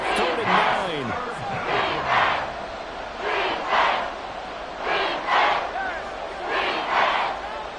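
A roaring football stadium crowd at fever pitch during an Eagles–Commanders game, a dense sustained wall of cheering that swells in repeated surges roughly every second, loud and close throughout.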